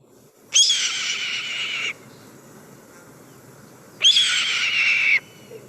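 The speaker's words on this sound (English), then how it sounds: "So that is the sound of the red-tailed hawk." Red-tailed hawk calling twice, each a loud, harsh, hoarse scream about a second long, separated by a few seconds of near quiet.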